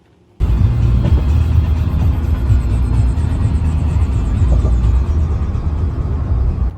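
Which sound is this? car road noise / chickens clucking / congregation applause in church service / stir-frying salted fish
car road noise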